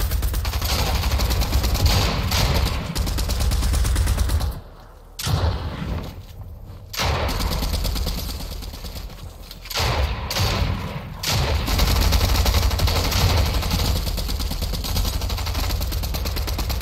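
Gunfire from a gun in a shooter video game: sustained loud automatic bursts, close and dense, broken by a couple of short pauses before resuming heavily.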